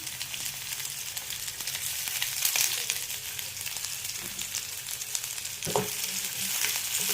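Onions, curry leaves and green chillies sauté in a pan for a carrot and beans kootu. A moderate, continuous frying sizzle runs throughout, broken by a few scrapes and taps of stirring, with no voices.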